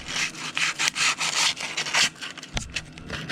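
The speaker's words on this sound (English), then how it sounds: "hit the crankshaft with some sandpaper just to ensure it's smooth" A Subaru crankshaft is sanded by hand with 320 grit sandpaper, giving rhythmic back-and-forth scratchy strokes that are close and loud, with a brief knock partway through. Nobody talks.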